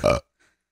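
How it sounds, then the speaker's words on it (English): A short, close, loud burp lasting a fraction of a second, then quiet apart from a faint small noise. "Did you just burp over my intro?"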